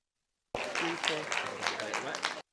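Audience applause at a 2020 talk event on Black women's health, a burst of clapping that starts abruptly, holds steady for about two seconds, then cuts off, with a voice speaking over it.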